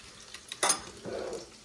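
Chicken sizzles in a frying pan while being basted, with a sharp spoon-against-pan clink and a brief burst of hot-fat spatter over a low steady fry, close up.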